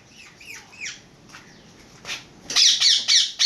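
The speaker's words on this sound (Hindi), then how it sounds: "ये देखें, ये हमारी मैना है" A pet myna bird calls nearby. It opens with quick whistled chirps, then gives a burst of loud, harsh, repeated squawks, with no talking.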